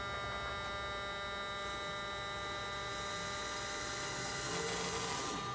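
The electric motor of a VW Thing EV conversion, with no flywheel fitted, spins up under light throttle, giving a steady close whine with stacked tonal hum lines over a rough mechanical rumble that grows slightly near the end.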